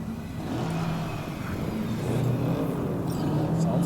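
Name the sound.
car engines revving in a video game convoy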